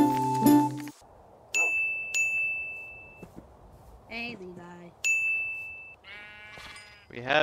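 Several bleats from cartoonish synthetic sheep in Minecraft sound in short bursts, mixed with bright electronic dings and chimes, in an otherwise quiet setting.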